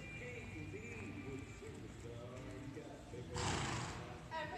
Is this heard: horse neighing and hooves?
yes